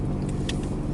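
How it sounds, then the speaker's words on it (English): Steady low road rumble and hum inside a moving car, constant and fairly loud, with faint higher whooshes drifting over it and no talking. "Hopefully the car noises aren't too loud."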